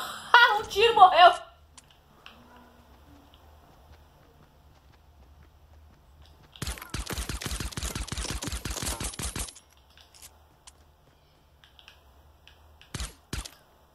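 Rapid gunfire in a video game bursts out for about three seconds, followed by a couple of short shots near the end, with excited talk at the start and quiet stretches between.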